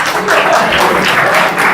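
Loud, dense applause from an audience fills the short moment, a steady wash of clapping without pause.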